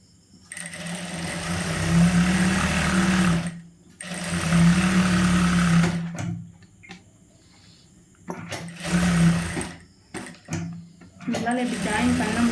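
Sewing machine stitching a churidar lining onto the main piece, running in loud bursts of a few seconds each, separated by quiet pauses and short, choppy runs toward the end.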